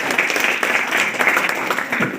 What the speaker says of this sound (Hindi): हाथ इसके लिए ताली